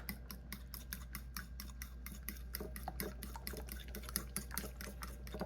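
A whisk beats eggs in a bowl as melted, cooled butter is poured in for a low-carb sausage cornbread dressing, with a steady fast rhythm of metal scraping and sloshing, close and moderately loud, with no voices.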